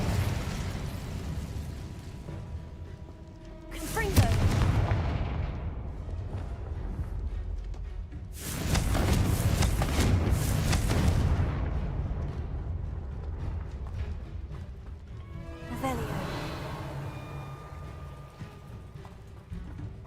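Confringo blasting spells go off as fiery explosions in the Hogwarts Legacy video game. Three loud booming bursts spaced several seconds apart ring out over a rumbling in-game background.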